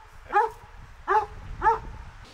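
A Central Asian shepherd dog of an aboriginal Tajik line gives three loud, separate barks at close range, evenly spaced, against a quiet background.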